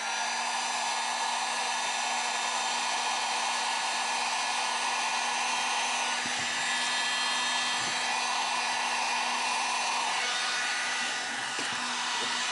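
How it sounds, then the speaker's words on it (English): A heat gun blows hot air over soldered joints on a Jeep Wrangler TJ wiring harness. Its steady, loud, close whooshing hum runs without a break for the whole stretch. "And then we'll take our heat gun and just heat it up."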